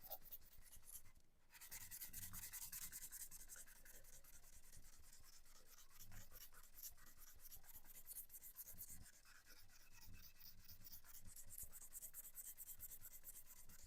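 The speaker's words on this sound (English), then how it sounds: "So that is sanding up nicely." Steady hand sanding of a wooden bowl with 240 grit sandpaper, a continuous dry rasping scrape close to the listener that runs loud and unbroken throughout, with one brief pause near the start.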